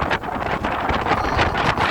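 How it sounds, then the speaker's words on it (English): Strong wind buffets the microphone continuously, a loud broadband rumble with gusty surges and no voices. "I didn't expect today to be so windy"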